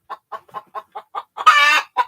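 A hen clucks in a steady series of short calls, then lets out one longer, louder squawk before a final cluck, close by.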